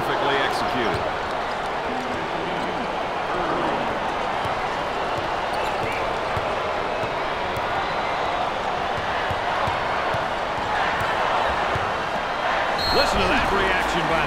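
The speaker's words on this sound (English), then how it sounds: "Listen to that reaction by the crowd." Crowd roaring and cheering loudly at an ACC Tournament basketball game between Clemson and Virginia after a made basket, a sustained swell of arena noise with squeaks and thumps underneath and a brief surge near the end.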